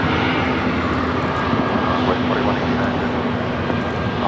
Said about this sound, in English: British Airways Flight 289 coming in from London Heathrow, the A350 1000